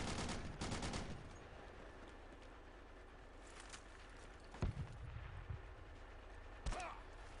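Gunfire aimed at a squad in the video game Project Reality: a burst of distant automatic shots at the start, then sparse single cracks later, faint over a low background rumble.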